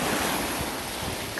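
Ocean surf washes steadily onto a beach in a constant broadband roar, with wind buffeting the microphone and no voices.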